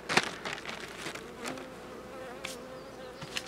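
A steady, buzzing drone of many honey bees inside a queenless hive being inspected, close and continuous, with a few soft knocks and brief louder swells.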